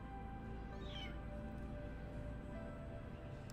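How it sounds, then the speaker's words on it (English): A single short cat meow from the game ANNO: Mutationem cuts through a dense, steady ambient game soundscape early on, then only the background hum continues. "Is this a ghost cat?"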